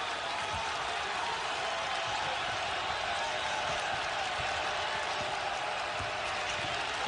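Basketball arena crowd at an NCAA college game between Villanova and Purdue, a steady, dense roar of cheering and applause that holds evenly throughout with no break.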